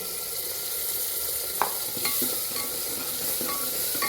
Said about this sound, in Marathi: त्यात काजू 10-12 टाकावे, थोडीशी हळद, मिक्सरला मसाला करून घेतलाय ते घालावे